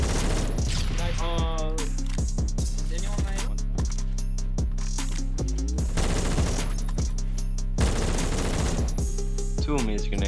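AKM automatic gunfire in a competitive shooter match, rapid fusillade bursts repeating across the clip, loud and punchy, layered with game music and a caster's excited talk.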